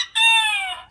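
A single close chicken call rings out, a short bright drawn-out squawk lasting under a second, loud and alone against a quiet background.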